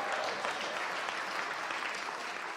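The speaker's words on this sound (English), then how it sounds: "People will clap for anything." A church congregation breaks into steady, dense applause, many hands clapping together in a continuous wash that holds at an even level throughout, with no voices standing out above it.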